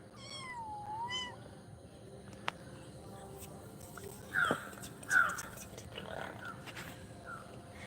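A cat meows a couple of times early on, faint and near, against a quiet outdoor background with a few crow-like caws and low voices in the distance.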